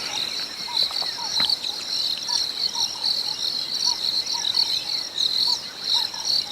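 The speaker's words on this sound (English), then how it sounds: "You can hear all the crickets calling right in front of us." Crickets chirp in a dense, continuous high-pitched chorus, with scattered faint birdcalls beneath and no talking, at sunrise on an African safari.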